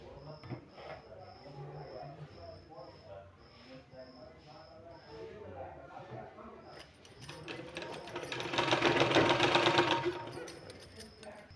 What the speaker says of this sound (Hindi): इस तरह से फिर से यहाँ सिलाई लगाना है